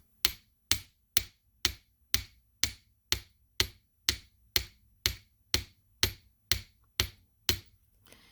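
A chasing hammer flattens a metal jewellery ring at close range, about fifteen sharp, evenly spaced metallic strikes falling roughly twice a second, each ringing briefly before the next.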